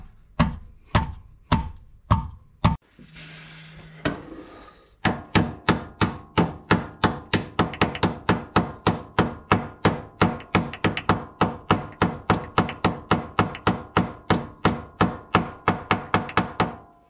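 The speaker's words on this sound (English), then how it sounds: "if you've got to tap them in like that, just make sure you use a nice soft hammer" A few separate taps, then a long run of quick, even thumps from a soft-faced hammer tapping rigid subframe collars into a Honda Civic FN2 Type R, loud and close.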